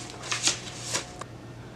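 A stack of football team cards is shuffled by hand in a few quick riffling bursts, close and crisp against a quiet room hum.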